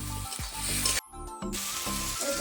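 Spice paste frying with a splash of water in a pan during village cooking, a dense, loud, steady sizzle that drops away for a moment midway and then resumes with scraping stirs.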